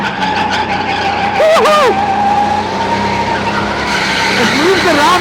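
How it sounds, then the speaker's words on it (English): Tires of a powerful indoor go-kart squeal and skid through corners during fast laps, loud and close over the whining engine, with a voice whooping briefly in the middle. "It slides a lot though."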